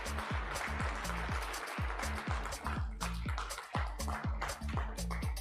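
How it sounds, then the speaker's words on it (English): Audience applauding at the ELCIA Tech Summit in Bengaluru, sustained dense clapping with rhythmic thumping beats of background music running underneath. "huge round of applause"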